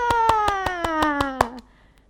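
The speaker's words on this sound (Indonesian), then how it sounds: "Tepuk tangan semuanya." Rhythmic hand clapping from a children's church service, about ten quick, even claps over roughly one and a half seconds, sounding close and loud alongside a sliding, descending tone before the sound cuts off.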